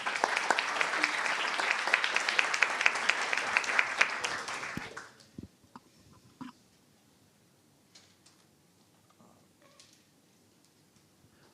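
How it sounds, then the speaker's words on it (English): Conference audience at PyCon Italia 2024 applauds two speakers with steady, full clapping that fades out after about five seconds, leaving a quiet room with occasional small noises. "And now give a big round of applause for the two of them."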